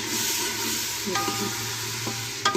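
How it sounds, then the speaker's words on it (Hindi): Tomato and green chili paste frying and being stirred with onions for a fish masala curry, a steady close sizzle with light scraping stir sounds and a couple of sharper clicks near the end. "ये जो टमाटर और सब्ज़ मिर्चों का मैंने पेस्ट डाला था, बनाया था, वो मैं डालता हूँ इसके अंदर और साथ में ही इसको थोड़ा सा भून के"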